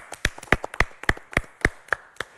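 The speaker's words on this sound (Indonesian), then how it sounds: "Tepuk tangan dari kami untuk Ibu nih" A small group claps in a TV studio for a guest: about ten sharp, separate claps in a steady rhythm, fairly close and without cheering.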